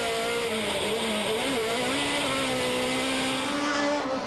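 A Ford Pro Light race truck engine revving hard in off-road racing at Miller Motor Park, Utah, a sustained high, buzzing howl with pitch wavering up and down as the throttle is held near the limit, loud and continuous.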